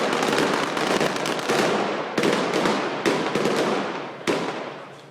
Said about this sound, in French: Dehors, des policiers filment la fusillade d'une rare intensité.